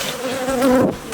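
Honeybees shaken from a capped brood frame hum in a steady close buzz that swells toward the end and then eases off, with no voices over it.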